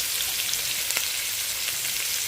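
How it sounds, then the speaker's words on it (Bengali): Chopped onions fry in hot oil in a pan as they are stirred, a steady, even sizzle with a few soft scraping touches and no voices. "পেঁয়াজ কুচিটা দিয়ে আমি ভালো করে এটা নেড়ে চেড়ে একবারে মুচমুচি করে ফ্রাই করে নিব এই পেঁয়াজটাকে"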